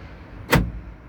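Central door locks on a 2010 Fiat Doblo actuating after a remote key repair, one short sharp mechanical clack up close amid quiet surroundings.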